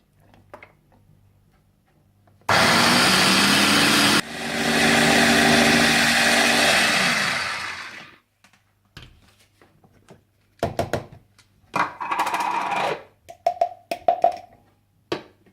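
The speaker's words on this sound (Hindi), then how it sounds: "इन्हें अच्छी तरह से मिलाकर पीस लें" An electric grinder blends chana dal with fresh coriander and green chilies, a loud roaring whir in two bursts totaling about six seconds, the second winding down, followed by quieter clinks and handling sounds.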